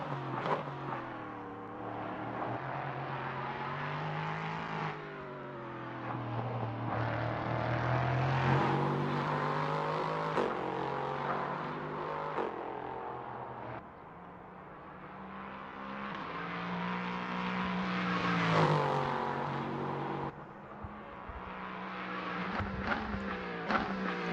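LMP3 prototype race cars howl around Silverstone circuit, engines rising and falling in pitch as they pass one after another, loud, layered and continuous through the whole stretch.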